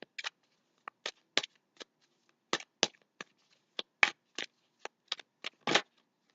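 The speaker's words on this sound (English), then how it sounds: "So let's start shuffling here." A deck of tarot cards is shuffled in quick, crisp riffling bursts with short pauses between them, close and fairly quiet against a silent background.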